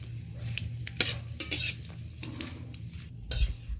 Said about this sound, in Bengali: হালকা করে আমি ফোড়নটা নেড়ে নিচ্ছি একটু।